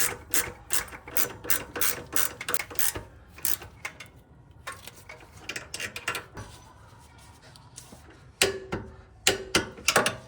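A hand ratchet tightens the rear sway bar end link nut on an Acura RSX Type S, its rapid clicking coming in close bursts of strokes separated by short pauses, with a final flurry near the end.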